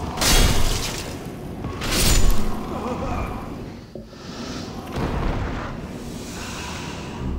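Fire bombs burst in Demon's Souls, with several loud whooshing blasts and crackling flames in separate surges, close and heavy, one sharp crack cutting in midway.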